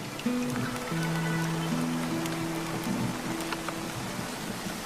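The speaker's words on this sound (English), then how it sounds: "The downpour continues for weeks." Heavy rain pours down in a steady broadband hiss, with sustained musical tones layered over the downpour throughout.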